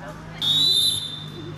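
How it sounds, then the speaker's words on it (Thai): One sustained, shrill whistle blast lasting just over half a second sounds as a signal at a school game at Ban Thap Phraya School in Kanchanaburi, with faint background murmur around it. "ขอสัญญาณนกหวีดนะครับ"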